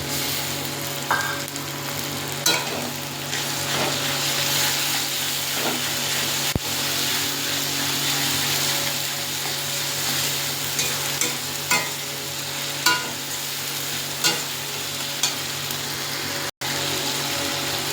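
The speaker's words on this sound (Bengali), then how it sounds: "তো বন্ধুরা দেখুন, হালকা ভাজা হচ্ছে, এর মধ্যে আদা বাটা, রসুন বাটাটা দিয়ে দেওয়া হবে।" Masala for mutton kosha fries lightly in a pan as ginger and garlic paste goes in, producing a steady, hissing sizzle with occasional sharp clicks and taps throughout.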